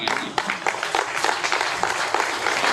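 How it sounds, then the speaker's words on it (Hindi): Listeners at a Hindi comedy poetry show break into applause, a brisk patter of many hands with a few louder individual claps, moderately loud and brief. "तालियां नहीं बजाओगे तो माता रानी पाप लगाएंगी।"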